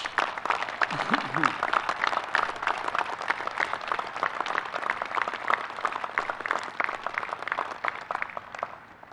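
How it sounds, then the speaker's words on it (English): A crowd at the U.S. Coast Guard Academy commencement gives steady, dense applause for the graduating class. The sustained wash of many hands lasts about nine seconds and fades slightly at the end, with a brief voice near the start. "Would you please join me in a round of applause for the members of the Class of 2020 who are standing the watch?"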